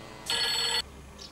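A telephone rings once in a short electronic burst, fairly close, followed by a faint second chirp in an otherwise quiet room.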